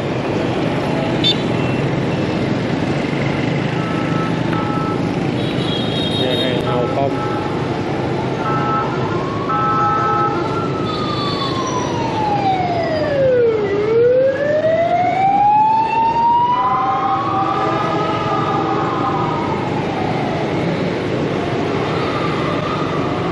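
An ambulance siren on a Saigon street wails loudly in rising and falling sweeps, dipping low as it passes close by, then climbing again over steady traffic rumble.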